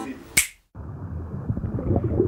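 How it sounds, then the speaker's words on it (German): One crisp, close finger snap stands out amid background sound, followed by a brief silence and then a rushing, watery underwater-like ambience. "Ich könnte jetzt mal mit dem Finger schnippen"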